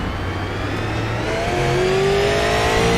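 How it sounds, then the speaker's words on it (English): A race car at the LA Memorial Coliseum working throttle and brakes into a corner, engine revving and pitch rising steadily over a loud, continuous roar with no talk. "Listen to that throttle and brake control as he enters the corner."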